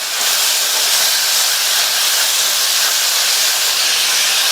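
Small halved tomatoes sautéing with onions in a hot pan, giving a loud, continuous sizzling hiss that stays even throughout with no talk.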